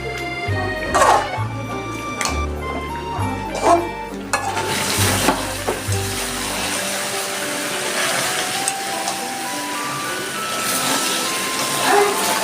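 Chicken curry with potatoes sautéing in a pan, cooked with little oil, gives a steady close sizzle with stirring scrapes and clatter, loudest early on and then settling into a continuous frying hiss.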